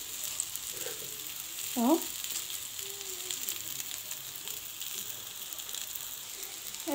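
Chicken kofta sizzling on a grill as it is turned, a steady soft frying hiss running throughout with a brief clatter of turning near the start and a short spoken word.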